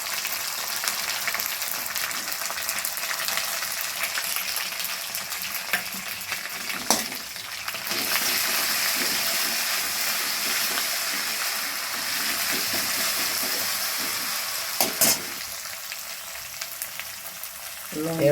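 A paste of ground cumin and coriander fries in a pan, giving a continuous hissing sizzle that grows louder partway through, with a few occasional sharp knocks.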